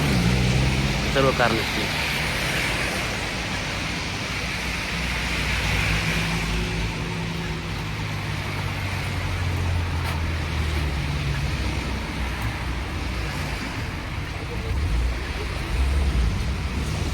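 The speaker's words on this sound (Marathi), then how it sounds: "आता आपण बघू शकतो या सर्व कार निघतील" Cars pulling away from a green traffic signal on a street in Kraków, Poland, a continuous broad roar of engines and tyres that holds steady throughout, with a voice talking over it.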